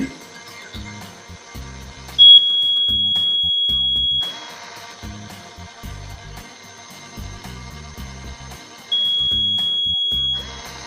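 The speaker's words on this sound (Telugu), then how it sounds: "అలానే మనకి ఇక్కడ బజర్ బ్లో అవుతుంది" A piercing, steady electronic buzzer tone from an IR-sensor anti-sleep alarm for drivers sounds for about two seconds, stops, then sounds again, over a rhythmic mechanical thumping.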